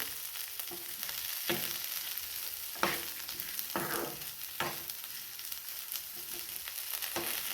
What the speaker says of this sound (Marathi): आपण ही मटकी आणि मिरची आता पूर्ण मिक्स करून घेऊयात आणि याला आणखीन थोडंसं भाजून घेऊ